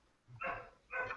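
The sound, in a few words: dog barking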